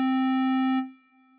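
A synthesized square wave oscillator tone holds at a steady, buzzy low-mid pitch for under a second, then cuts off sharply and leaves a faint lingering hum, with no talking.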